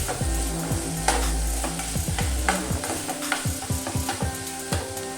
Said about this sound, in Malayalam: നമുക്കിത് നന്നായിട്ടൊന്ന് വഴറ്റിയെടുക്കാം.